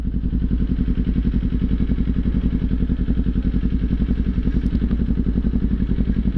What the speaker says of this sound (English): I love listening to different bikes with different types of exhausts on them